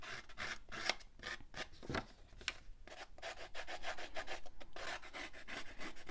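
Edge of white-core cardstock being roughened by hand, giving close, quiet, rapid rasping scrapes in quick strokes with brief pauses.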